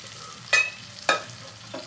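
Spice paste being sautéed in a pan with a little water gives a soft, low sizzle broken by two sharp scraping stirs of a spatula, close and alone with no talking.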